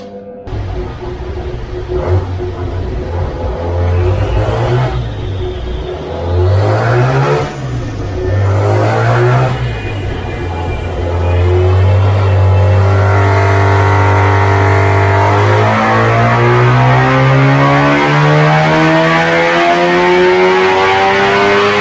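A loud Mazda bridgeport rotary engine with a Weber carburettor revs up and down in repeated surges on a dyno, then holds a sustained high, rising whine, with no talking.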